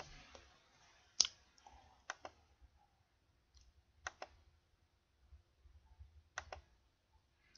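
Computer mouse clicks on a Windows 8.1 machine, sharp isolated taps spaced irregularly, close and fairly quiet against a near-silent background.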